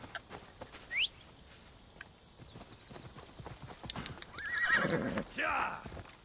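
A horse in the video game Assassin's Creed Odyssey whinnies and clip-clops, hoofbeats and a loud neigh toward the end, with other game sounds and birds around it.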